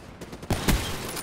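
Sniper fire in Call of Duty: Black Ops 3, a couple of sharp, loud gun cracks about half a second into the clip, with a ringing tail and fainter game noise around them.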